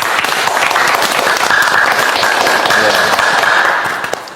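Audience applause fills the space, a steady dense wash of clapping from a crowd that holds loud throughout and tapers off near the end.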